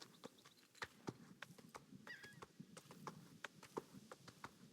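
Hooves of a horse in the video game Star Stable clip-clop in a quick, steady running rhythm on a farm, close and clear, with a few sharper accents and no talking.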